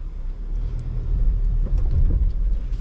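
A 2022 Jeep Grand Cherokee 4xe crawls over rocks in four-wheel low, giving a steady, low, close rumble with occasional scraping knocks, and no talk.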